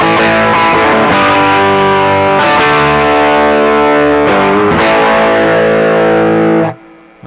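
An electric guitar runs through a Brothers AM pedal set to distortion and overdrive, producing loud, thick, sustained distorted chords with a few sharp restrikes, ringing continuously before cutting off abruptly near the end.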